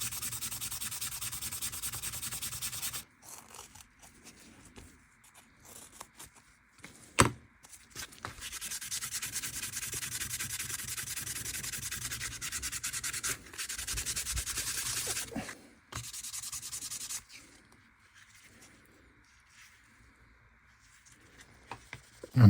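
Crumpled aluminum kitchen foil rubs rust off the blade of an old, roughly 100-year-old Morakniv hunting knife, giving close, steady scrubbing strokes in long bursts separated by brief pauses.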